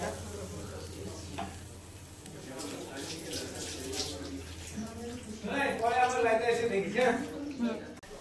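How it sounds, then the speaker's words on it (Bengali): Rinse water from a mixer grinder splashes into a cooking pot of spice masala for a soy chunk recipe, sizzling and bubbling close by, growing louder toward the end while a voice talks over it. "এই যে একটু জলও দিয়ে দিলাম, মিক্সি ধোয়া জলটা"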